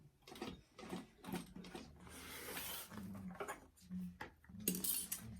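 A sewing machine back stitches a bag in quiet, stop-start bursts of rapid clicking and whirring.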